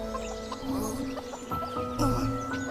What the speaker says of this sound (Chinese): 公鸡的音效偏右声道